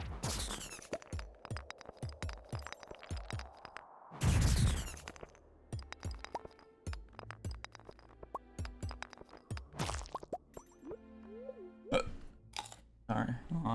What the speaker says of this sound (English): Oh, I have the hiccups.